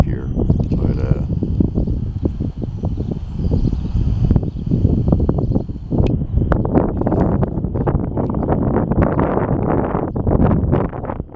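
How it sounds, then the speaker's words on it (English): Gusty wind buffets the microphone with heavy low rumbling bursts throughout, nearly continuous and loud outdoors. "Getting quite windy out here."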